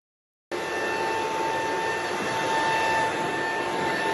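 A hair dryer blasts air over a Nissan 300ZX car, switching on abruptly into a steady, loud whooshing roar with a constant high whine, unchanging throughout and with no voices.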